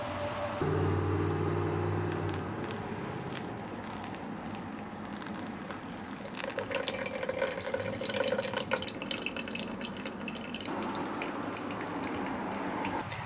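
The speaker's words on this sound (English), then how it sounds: "I'm gonna let this finish dripping, and then I'll get some milk in it." Coffee drips and trickles into a pint mug on a camp stove inside a truck camper, a steady watery patter over low background hum with no talk.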